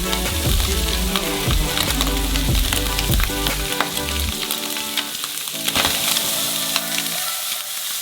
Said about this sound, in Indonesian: Dan sudah menggoreng semua sayuran kita di atasnya.